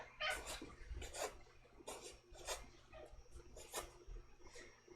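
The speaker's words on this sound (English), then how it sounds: "oops, that's my cat." A pet house cat named Tango meows in a string of short, fairly faint calls from a little distance away, with no talking.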